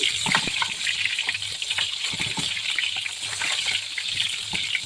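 Garlic and onion fry in a pan with a dense, continuous sizzle and crackle that holds steady at close range, with no talking.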